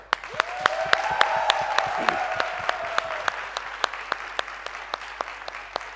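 A crowd at a televised November 1st celebration applauds the Protestant community, with steady clapping beneath sharp, regular rhythmic beats and a rising whistle or cheer-like tone in the middle.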